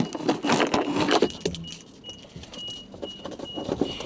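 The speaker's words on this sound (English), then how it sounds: "where have I put the car keys?" Keys jangle and clink loudly for a moment, then settle into faint metallic tinkles over a quiet background.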